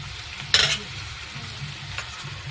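Fish dropped into a pan of hot spiced curry base for a papaya and bata fish jhol, a brief sharp sizzle burst followed by quieter frying and stirring, close up with no talking.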